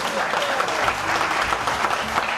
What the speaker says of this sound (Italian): un altro applauso ci sta bene ragazzi